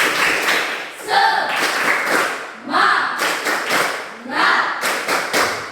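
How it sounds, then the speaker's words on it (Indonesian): Students in a classroom do a rhythmic spirit clap for a classmate, with patterned bursts of clapping mixed with chanted voices repeating several times, loud and close. "Tepuk semangat untuk si Calvinus"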